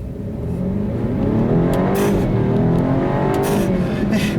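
A 2014 BMW 428i xDrive with a turbo four-cylinder accelerates hard along a back road, its engine note rising and climbing through the revs with a steady loud interior drone.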